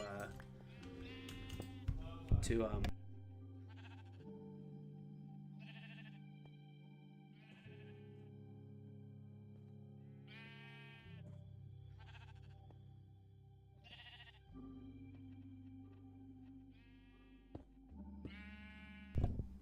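Sheep in a Minecraft farm bleat repeatedly in short bursts, heard under frequent talking and keyboard clicks over a continuous game background.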